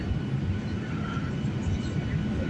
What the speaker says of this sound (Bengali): আমাদের বিমানটি এখনই ল্যান্ড করবে প্রস্তুতি নিচ্ছে